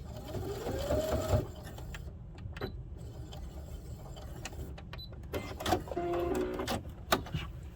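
A sewing machine runs in short bursts of stitching as small fabric pieces for an anthurium-themed box pouch are fed through one after another, its steady whirring motor close and loud, with brief pauses and clicks between runs.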